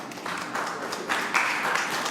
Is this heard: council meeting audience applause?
yes